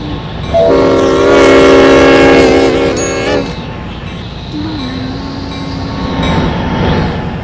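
A train passes loudly, its horn sounding a long chord before fading into rumbling wheels and rail clatter.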